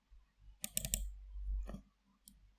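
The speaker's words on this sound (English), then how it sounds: "Let me double click this to open." Mouse clicks at a computer during database work, a quick cluster of sharp clicks followed by a single later click and one faint tap, close and isolated with no voices.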